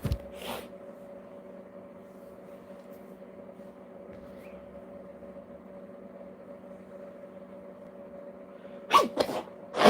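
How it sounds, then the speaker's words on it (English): A quiet steady hum fills most of the stretch, then a sharp sneeze bursts out near the end, followed by a couple of short breathy sounds. "the nose is trying so hard to sneeze"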